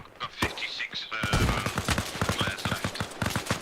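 Video game battle gunfire as Americans fire on Soviets: rapid bursts and single cracks over a constant rattle of shots, with a voice talking under the shooting.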